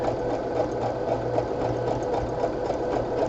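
A sewing machine runs steadily, stitching a seam on a crumb quilt block, with a close, even mechanical whir and a regular pulsing hum throughout.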